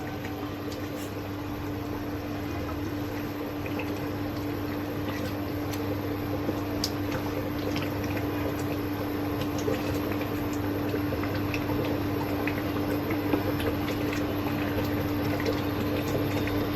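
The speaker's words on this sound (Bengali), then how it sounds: "আমি অনেক আস্তে জাল দিয়ে দিয়েছি এখন," Beef hari kabab simmering in a pot on low heat, giving a steady, continuous bubbling and hiss with a faint hum underneath, close and moderately quiet, with no talking.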